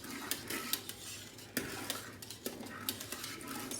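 A spoon stirs vinegar into heated milk as it begins to curdle, giving repeated soft scrapes and light clinks against the pot over a faint simmering hiss, with no voices.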